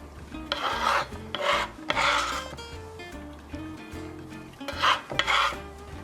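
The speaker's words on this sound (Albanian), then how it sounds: "do të qëroj hudrat" Garlic cloves being peeled by hand for a salmon fillet dish, with dry papery rasping and rubbing in several bursts, close and fairly loud over faint background music.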